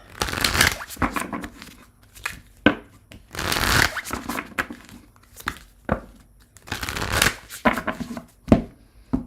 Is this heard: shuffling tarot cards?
yes